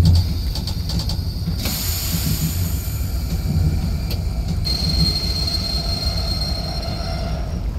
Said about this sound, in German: So haben die Züge auch früher gebremst. Diese Klotzbremsen.